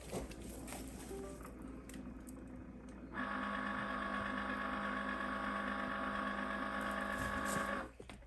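A Cricut Explore Air 2 cutting machine switches on after a few seconds of quiet handling, then runs with a steady, close mechanical whir and hum for several seconds before winding down.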